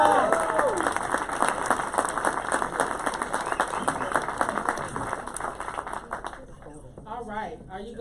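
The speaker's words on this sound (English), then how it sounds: "Let's give them a round of applause." An audience at a public education panel event applauds a group taking the stage, a dense sustained clapping that fades in the last seconds while a voice starts speaking over it.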